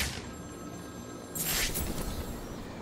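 A telephone rings inside the video game Batman: Arkham City, a bright ringing burst that rises over a dense, steady bed of game ambience and rumble.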